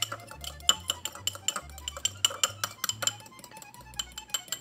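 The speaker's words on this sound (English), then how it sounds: "Give it a nice good mix" A utensil clinks and taps rhythmically against a bowl as oil, herbs and salt are mixed for a pizza crust, giving quick, close metallic ticks with no talk.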